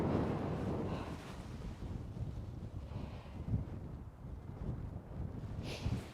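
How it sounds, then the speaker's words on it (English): Wind gusts steadily across an open clifftop golf course at Nefyn, Wales, buffeting the microphone with a low, rumbling roar that swells and eases in waves, with no talking. "We're hitting back into the wind here"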